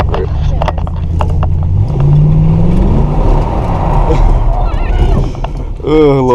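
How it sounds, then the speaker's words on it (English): Chevrolet Camaro engine blipped in short throttle bursts while street drifting, a rising then falling rumble with tire and road noise, close inside the car, with people talking over it. "I find it easier to just give it like little braps to keep it sideways."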